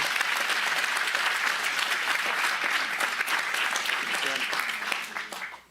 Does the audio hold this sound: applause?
yes